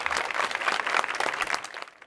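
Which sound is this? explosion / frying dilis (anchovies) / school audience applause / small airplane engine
school audience applause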